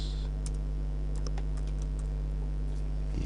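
Keys clicking on a computer keyboard in short, irregular bursts over a steady low hum, close and fairly quiet, with no voices.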